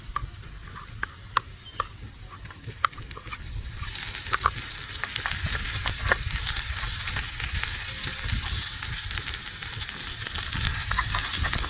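Spice masala sizzles in a tiny miniature kitchen pan for quail egg curry. Quiet ticks at first, then a dense, loud frying hiss from about four seconds on.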